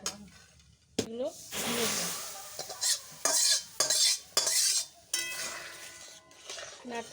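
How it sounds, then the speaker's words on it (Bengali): Fried semolina is stirred in a pan with a metal spoon, giving scraping clinks and soft sizzling in uneven bursts, with a voice talking over parts of it. "নাড়তে থাকতে হবে, নাহলে তলায় লেগে যাবে"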